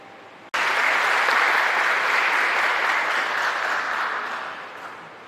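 A crowd breaks into sudden loud applause that holds steady for several seconds, then gradually thins and fades.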